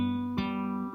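An acoustic guitar sounds one fingerpicked chord, the thumb on the 6th string and the second finger on the 2nd string; a second pluck enters just before the midpoint and both ring on alone, close and steady.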